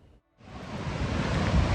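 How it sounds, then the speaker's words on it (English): Wildcat Falls in Yosemite pours down as a steady rushing roar that cuts in after a brief silence and holds loud and close, with no voices over it. "So we're at our first big waterfall here in Yosemite."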